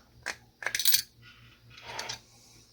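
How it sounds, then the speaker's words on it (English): Metal parts of a Penn 712 spinning reel clink together as the rotor goes back on: a small click, then a quick jangling cluster of metallic taps, followed by softer scraping and sliding, close and fairly quiet. "Now we can put the rotor back on."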